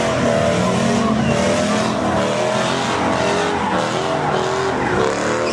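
A Ram pickup truck pulls up at a big car meet, its engine droning loud and steady with rising revs and a hint of tire noise, filling the scene without pause.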